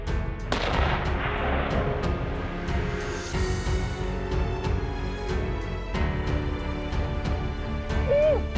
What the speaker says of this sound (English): The sound of gunfire echoes through the dense forest